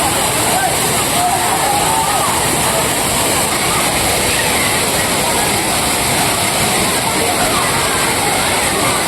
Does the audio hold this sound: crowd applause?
no